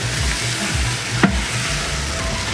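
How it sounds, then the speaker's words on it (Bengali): Meat lands in a pan of spices already cooked down, setting off a steady, dense sizzle close by with one brief clatter in the middle, and no one talking. "এই মশলা আর কি ওটা কষানো হয়ে গেছে, তো এখন আমরা এই মাংস এখানে দিব সম্পূর্ণ"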